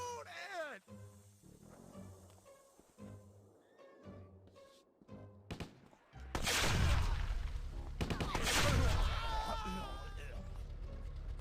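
Bursts of gunfire and explosive booms in the video game Stubbs the Zombie, loud dense volleys erupting after a quieter stretch of game sounds, with a voice talking over the start.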